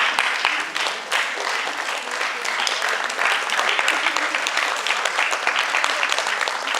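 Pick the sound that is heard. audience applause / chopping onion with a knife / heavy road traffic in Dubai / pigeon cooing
audience applause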